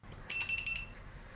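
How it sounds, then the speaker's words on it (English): A short burst of rapid high-pitched electronic beeps from a SafeShock dog training collar, three or four quick pulses, clear and close against a quiet background. "and then we have the beep, really simple"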